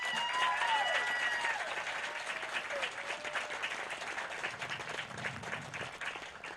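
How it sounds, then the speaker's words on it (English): Graduation audience at a charter school applauding the graduating seniors, a sustained wash of many hands clapping, steady and fairly loud, with a few whistles and cheers rising over it. "Please give these seniors a round of applause."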